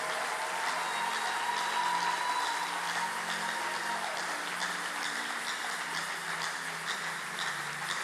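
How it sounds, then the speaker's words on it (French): A church congregation at a prayer gathering applauds and cheers for the Lord, with steady, dense clapping and a faint undertone of voices, sustained evenly from start to finish. "Est-ce que tu peux acclamer pour le Seigneur?"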